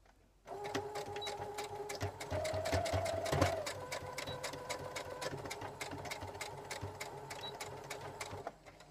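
An electric sewing machine runs steadily, stitching two pieces of fabric with a 1 cm seam allowance for an insulated pouch, a close, even mechanical whir with rapid regular needle clicks that starts and stops cleanly.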